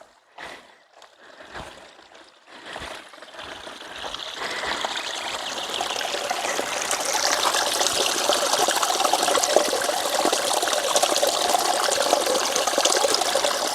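A small, pretty stream flows through a quiet rural plot. It sounds as a steady, broad rushing wash that starts faint after a few footsteps and swells louder and closer, holding constant to the end with no voices.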